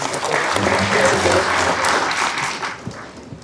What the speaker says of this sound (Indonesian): Tepuk tangan buat yayasan.